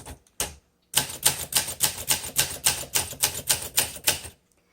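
A 1962 Olympia SM5 manual typewriter being typed on, close and clear: a couple of early taps, then a steady run of about a dozen evenly spaced, crisp keystrokes with no voices.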